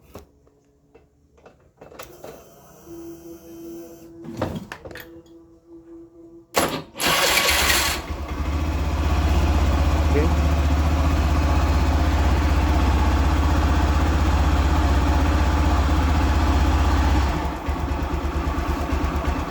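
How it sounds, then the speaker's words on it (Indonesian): A fuel-injected motorcycle engine, just repaired, cranks, catches and starts, then settles into a steady, loud idle that runs for several seconds. "Motor sudah hidup"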